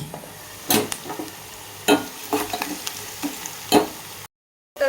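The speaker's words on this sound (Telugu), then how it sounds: "వెల్లుల్లి రెబ్బలు అయితే మంచిగా ఫ్రై అయిపోయినాయి" Garlic cloves and onion frying in a pan for mango dal, a steady close sizzle broken by several sharp stirring scrapes, ending in a brief silence.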